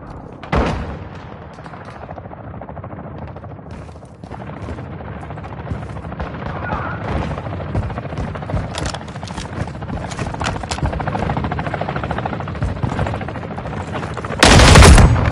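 Gunfire and a helicopter in the Modern Warfare video game: sustained bursts of automatic fire and booms over a steady rotor drone, with a loud burst near the end.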